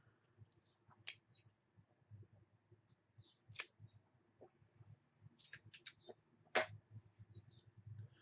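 A cutter clips a La Gloria Cubana Churchill cigar: a few sharp, isolated snips and clicks, close and quiet, spaced out over a near-silent background.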